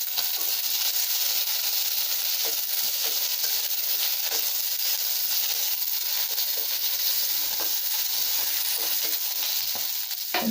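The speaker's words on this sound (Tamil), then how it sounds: "வெங்காயம், பூண்டு போட்டுடலாங்க" Onion and garlic frying in hot oil with mustard seeds, fenugreek and cumin, a dense, continuous close sizzle and hiss with faint stirring scrapes throughout, loud and unbroken with no talking.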